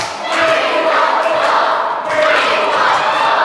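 Wrestling arena crowd at a Rob Valentine vs Sid Manelli match roars and cheers in a loud, sustained wall of noise, with scattered shouts rising out of it throughout.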